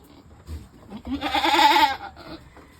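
A goat bleats in a long, strained cry while being helped through a difficult kidding on a farm, preceded by faint rustling and soft low sounds nearby.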